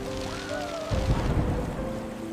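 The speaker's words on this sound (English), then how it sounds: "The storm rages on." Thunderstorm with heavy rain over a rural village, a steady wash of rain with a low rumbling swell of thunder in the middle, close and fairly loud, with a faint tonal whine early on.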